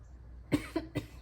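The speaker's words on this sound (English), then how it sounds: "So I can go clear my throat." A short burst of throat clearing: three quick, rough rasps in a row, close and fairly loud against a quiet background.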